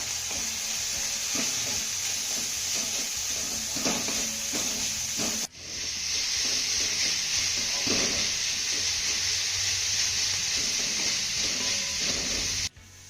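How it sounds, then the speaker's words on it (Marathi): Chopped carrot and cabbage being sautéed in a pan, a steady close sizzle with scraping spatula stirs throughout, briefly dipping once midway, no voices. "आता या घातलेल्या सगळ्या भाज्या आपल्याला छान अशा मौसूद होईपर्यंत परतून घ्यायच्या"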